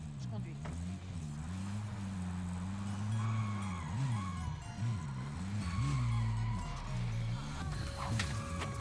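A car driven in a shooter video game, its engine droning and rising and falling in pitch as it accelerates, steady and fairly close, with talking over it.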